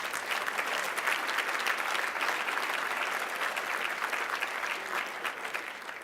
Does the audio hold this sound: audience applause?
yes